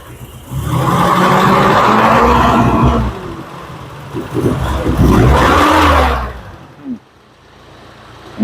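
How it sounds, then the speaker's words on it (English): An Amigo engine that runs poorly roars up loudly, holds for a couple of seconds, then revs again in a second burst before settling to a quiet idle. "Go ahead and rev it a little bit"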